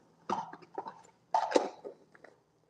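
Several short, dry coughs from a person feeling run down with a cold coming on, grouped in two bursts with a brief pause between, close and moderately quiet with no talking.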